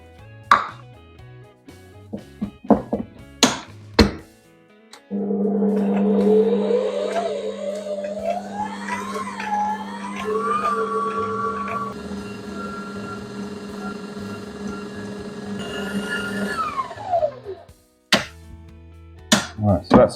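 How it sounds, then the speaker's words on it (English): An electric mixer creams eggs and sugar for carrot cake, a steady motor whir that shifts pitch as speed changes, bracketed by sharp knocks and clatter before and after. "we're going to cream the eggs and sugar together so it's nice and fluffy"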